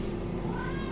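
A domestic cat gives a single drawn-out meow close by, rising slightly in pitch over a steady background hum.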